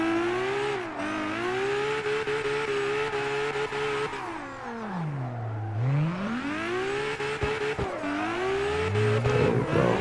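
Drift car engine in a racing video game revving up and down, a loud whining tone that sweeps low then climbs again, with brief gear-shift breaks, no talk.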